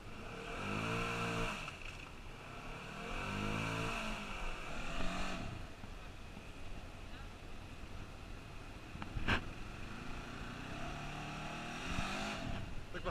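Polaris RZR UTV on 32.5-inch Mamba tires with a portal gear lift revs hard at full throttle, its engine note rising and falling in long surges at moderate distance, with an outdoor wind-like roar underneath.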